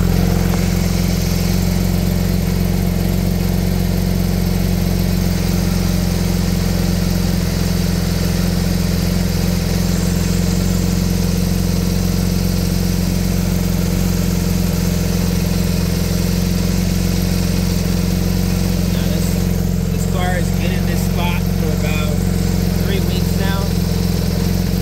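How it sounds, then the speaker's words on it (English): A Porsche 911 GT3 engine idles with a loud, steady low rumble and a slight rattling vibration from a Shockworks exhaust resonator throughout; a voice briefly joins near the end. "I know the Shockworks exhaust has a little bit of a rattle to it"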